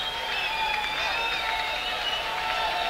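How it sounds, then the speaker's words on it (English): A live concert crowd at a show in Boston roars in a steady, unbroken wash of cheering, with thin whistles rising and gliding above it. "I know, the crowd is going nuts."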